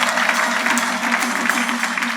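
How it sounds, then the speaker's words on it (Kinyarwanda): A church congregation claps together as applause offered to God at a year-end night of thanksgiving, a loud, dense and sustained round of clapping filling the room. "Ubu ntitwakongera tugakomera Imana amashyi."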